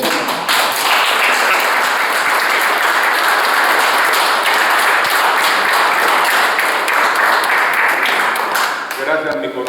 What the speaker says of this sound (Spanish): pido un aplauso muy sonoro